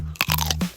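A fresh Market cucumber is bitten with one sharp, close crunch, followed by a brief moist chew, loud and alone.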